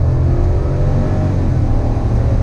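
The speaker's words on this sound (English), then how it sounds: "Guys, pulling away. Let me get on the loud pedal." A 2019 GMC Sierra Denali pickup accelerates hard, its loud, close engine giving a deep, steady roar with a low rumble that holds through the whole short burst, with no talking.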